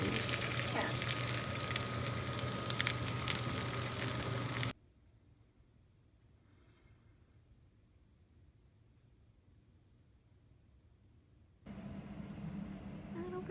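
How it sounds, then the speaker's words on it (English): Pierogi, Russian dumplings, frying in a pan give a loud, steady sizzle that drops away for several seconds and then returns just as strongly. "We're cooking up pierogi. So like Russian dumplings, or like Russian raviolis."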